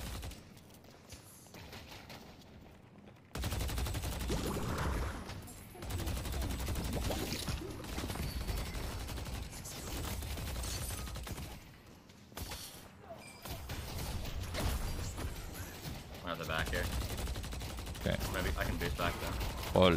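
A Deadlock video game character's gun fires in rapid bursts and volleys among other game effects, with players talking over the shooting.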